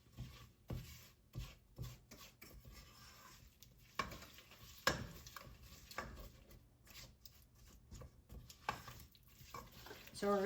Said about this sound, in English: So we're going to stir this.